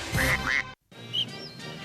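Nasal duck quacks from a Duck toilet cleaner TV advert, two bright calls, then a short silence and a couple more quacks over music and jingle-like sound. The quacks sound close and loud.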